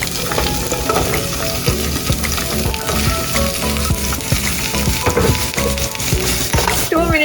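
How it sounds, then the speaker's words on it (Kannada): Baby corn sizzles and crackles as it fries in a little oil in a pan, with stirring scrapes throughout, over a layer of background music. "ಅದಕ್ಕೆ ಈ ಬೇಬಿ ಕಾರ್ನ್ ಎಲ್ಲ ಹಾಕಿ ಒಂದ್ಸರಿ ಫಸ್ಟಿಗೆ ಫ್ರೈ ಮಾಡ್ಕೊಂಡ್ಬಿಡ್ತೀನಿ"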